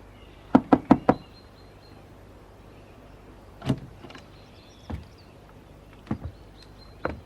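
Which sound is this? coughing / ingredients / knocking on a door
knocking on a door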